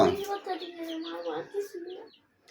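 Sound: baby chicks

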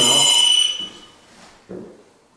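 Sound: K2 EMF meter going off

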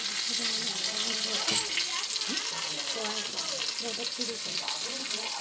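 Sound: food frying in a pan

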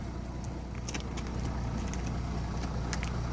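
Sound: diesel car engine running

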